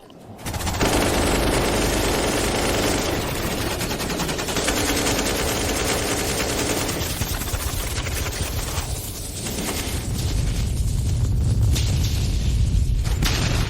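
Loud, sustained bursts of rapid machine-gun fire fill the scene almost without pause, with heavy booming impacts underneath and no voices heard.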